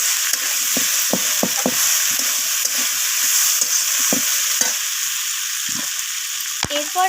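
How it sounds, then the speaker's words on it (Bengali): Ginger-garlic paste is stir-fried with vegetables in a loud, dense, continuous sizzle, with repeated scrapes and knocks of a spatula against the pan at an uneven rhythm. "আদা রসুনটাকে সবজির সাথে নাড়িয়ে চাড়িয়ে মিশিয়ে নিয়ে কষিয়ে নিচ্ছি"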